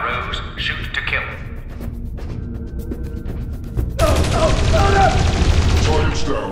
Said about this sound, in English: Shoot to kill.